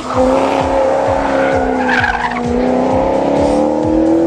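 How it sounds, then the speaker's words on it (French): A loud Ferrari-derived V8 sports car engine roars steadily with rising harmonic tones and periodic pulses, sounding close and sustained for several seconds without any talking. "abuser de la sonorité de son V8 d'origine Ferrari"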